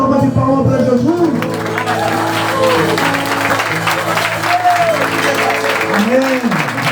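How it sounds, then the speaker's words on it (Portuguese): A church congregation applauds for Jesus, loud sustained clapping and crowd noise blended with voices and sustained worship music tones throughout. "Uma salva de palmas para Jesus"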